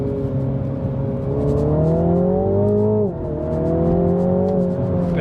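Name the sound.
2021 Mini JCW GP hot hatch accelerating through gears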